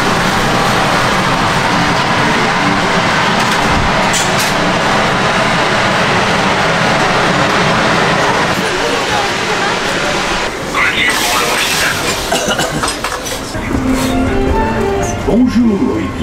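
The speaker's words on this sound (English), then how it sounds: "The train has arrived, so let's get on." Disneyland Paris park train pulling into the station and running, a steady mechanical rumble and rattle throughout with a brighter hiss and clatter near the end, with people talking nearby.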